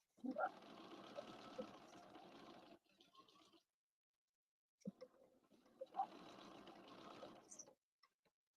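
A sewing machine stitches down the inseam of a pair of jeans, running in two steady bursts with a pause between them, close and clear with no one talking.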